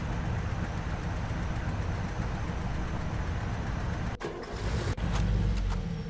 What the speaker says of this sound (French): la voiture fait du bruit, même si je ne suis plus dedans